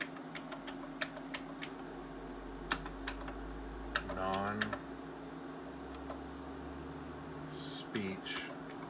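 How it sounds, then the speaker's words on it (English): Keys clacking on a TI-99/4A home computer keyboard in a sparse, irregular run of taps over a steady low hum, with a short burst of quicker strokes near the end. "so we're going to type Marcus of Marinus"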